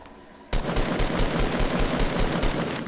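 Rapid automatic gunfire from Fortnite in a 50v50 match breaks out after a brief lull, a fast, loud, steady string of shots that runs without pause to the end.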